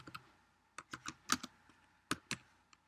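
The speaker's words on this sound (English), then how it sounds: "I'm going to type in" Quick bursts of keystrokes on a computer keyboard, close and fairly quiet, tapping in irregular clusters with short pauses between them.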